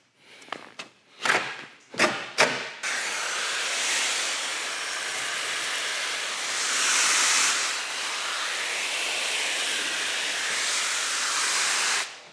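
Bursts of hissing spray from a bottle wetting PPF film and the painted hood of a 2024 Hummer EV, a few short puffs followed by a long steady misting hiss, close and fairly loud with no talking.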